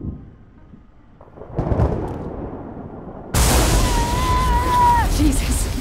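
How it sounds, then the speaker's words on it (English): A lightning strike in the video game Saints Row IV: a rumbling burst followed by a loud, sharp crack and sustained roaring noise, mixed with other game effects. "Can we focus on how Sid wants lightning to hit me?"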